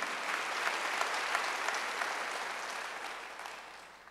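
A church congregation at a Wednesday worship service applauds together in a dense, steady burst of clapping that slowly fades toward the end, with no talking.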